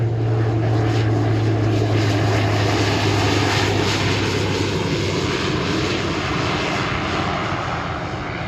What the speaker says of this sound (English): Interesting looking aircraft.